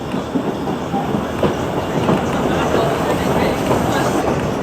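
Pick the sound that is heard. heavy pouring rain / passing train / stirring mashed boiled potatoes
passing train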